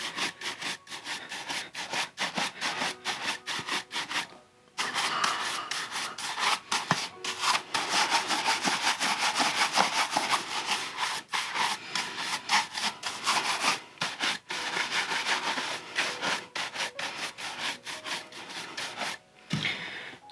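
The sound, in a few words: brushing wax off a shell cordovan leather shoe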